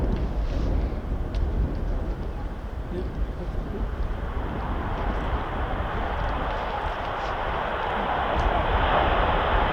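JAS 39 Gripen fighter jets release their brakes for takeoff, a broad, steady engine roar building slightly in strength and brightness toward the end, loud and continuous with no talk over it.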